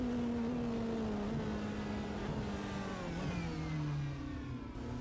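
A hybrid race car engine in the Rennsport video game revs in a steady, moderately loud drone, with the pitch sagging slightly and then rising again over a few seconds. The tone is smooth and buzzy rather than harsh.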